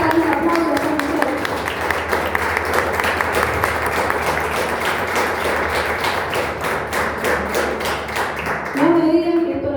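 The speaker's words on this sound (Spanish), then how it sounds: "Vamos a dar un aplauso a esta mujer." A congregation at a church service applauds a woman with steady, dense clapping that carries loud and close throughout, then stops near the end as a voice resumes.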